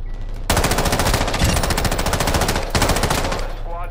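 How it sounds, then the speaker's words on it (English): Sustained automatic machine gun fire in Call of Duty: Modern Warfare II, loud and close, rattling in long rapid bursts with a brief break near the end, game battle noise underneath. "You are taking effective fire."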